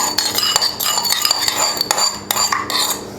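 A spoon stirs a lemon drizzle mixture in a bowl, clinking and scraping against the sides in quick, uneven strokes, close and fairly loud with no talking.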